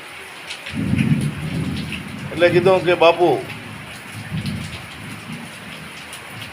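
Light drizzling rain patters steadily while thunder rumbles low, and a voice speaks over the wet hiss in a brief burst midway.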